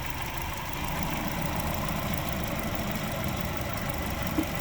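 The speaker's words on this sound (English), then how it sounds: "When I press it, you'll hear the blower come on." Blower motor on a 2020 Hyundai Sonata with an intermittent fault, a steady whooshing hum that rises slightly in the first second and holds constant, close and fairly loud.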